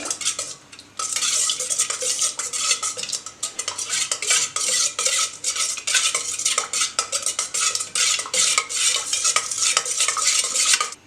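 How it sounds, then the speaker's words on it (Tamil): Homemade nalungu maavu soap mixture is stirred vigorously in a vessel, a close, continuous scraping and clattering of a utensil with rapid rhythmic strokes and no voices. "இப்போ எல்லாத்தையும் நல்லா மிக்ஸ் பண்ணிக்கணும்"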